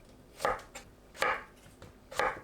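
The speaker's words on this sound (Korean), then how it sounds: "애호박을 길고 납작하게 썰어줍니다" Korean zucchini is sliced into long, flat pieces with three crisp, evenly spaced knife strokes hitting the board up close, with quiet pauses between them.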